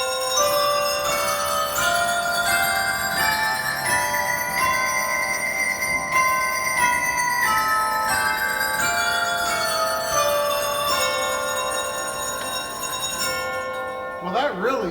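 A 1919 Wurlitzer pipe organ in a museum plays loudly and steadily, with sustained pipe tones and bright bell strikes over the top. The full band-like sound fades out at the end.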